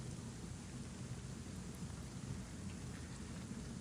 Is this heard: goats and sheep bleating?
no